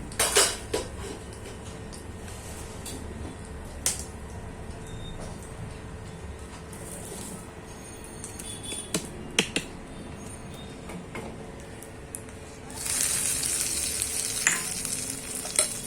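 A hot curry-leaf tempering sizzles loudly as it is poured over fresh coconut chutney, with sharp clinks of a metal pan and spoon and a burst of crackling toward the end.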